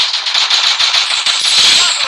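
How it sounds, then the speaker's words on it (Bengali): Rapid automatic gunfire from a mobile shooter video game, loud and dense, with fast repeating shots rattling through a short burst. "কোথা থেকে গুলি মারে রে?"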